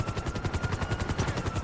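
Rapid rhythmic thumping of helicopter rotor blades in the video game GTA 5, loud and steady, with a fast chopping pulse throughout.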